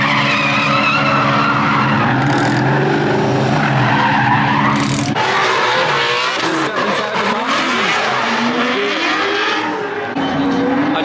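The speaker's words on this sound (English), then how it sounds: "it is like the fastest electric drift car ever" Ford Mustang Mach-E electric drift car with about 1,400 horsepower drifting up close, loud continuous tire squeal and skidding with shifting pitch, no engine note, filling the whole stretch.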